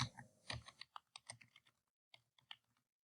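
Typing on a computer keyboard, close and quiet, with a quick burst of clicks followed by a pause and then a few more scattered keystrokes.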